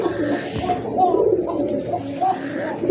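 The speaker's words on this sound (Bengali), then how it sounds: "রানিং কবুতর নটটা ভাই খুব ভালো ডাকে, দেখি এখন ডাকে কিনা" A male silver dom pigeon gives soft, throaty, gurgling coos in repeated bursts, close by, with faint background noise.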